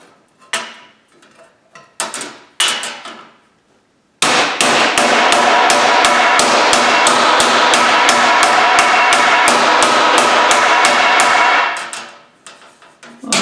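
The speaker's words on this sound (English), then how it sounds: "So I have to do a little hammer work with it on the table." Rapid, steady hammer blows on a Studebaker pickup door rust repair panel resting on a table, a long loud run of evenly spaced metallic strikes after a few scattered taps and handling noises.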